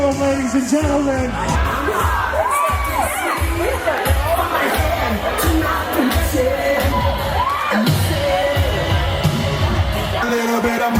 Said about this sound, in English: A round of applause for our bride and groom